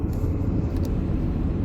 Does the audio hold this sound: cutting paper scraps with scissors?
no